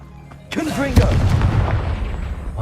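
A Confringo fire spell in Hogwarts Legacy erupts as a loud, close blast followed by a crackling, rumbling tail, with a voice calling out at the moment of casting.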